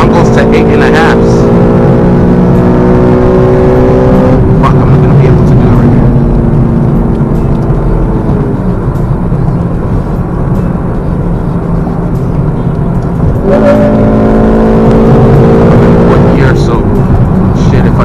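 A 2006 Honda Civic Si engine revving hard into VTEC while driving, loud and close, rising in pitch in two long pulls separated by a lower, steadier cruise, with a voice talking over it.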